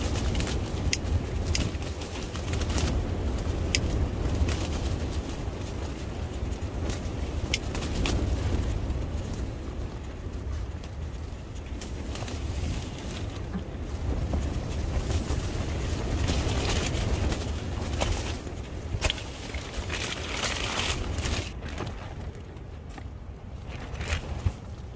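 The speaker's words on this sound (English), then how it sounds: "That wind is really strong." Strong, steady wind roars and buffets the microphone through a storm at night at a winter camp with a hot tent, continuous and loud throughout with no speech.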